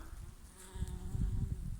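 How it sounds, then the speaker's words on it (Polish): Low droning buzz of bees hovering close by on flowering goldenrod, steady and rising slightly in the second half, with no voices. "praktycznie każdy kwiatek obsiadany przez pszczoły"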